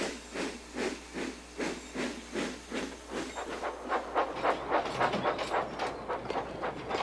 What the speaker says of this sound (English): Edward is chuffing cheerfully through the countryside.